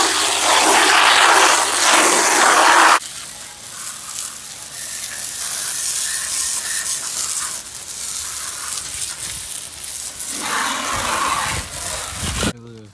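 Degreaser is sprayed onto a dirty dirt bike in a loud hissing blast for about three seconds, followed by a quieter steady hiss and a second brief spray near the end.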